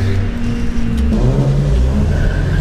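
A car lapping a farm drifting course during a free-for-all session, its engine droning loud and close throughout with steady revving and no talk over it.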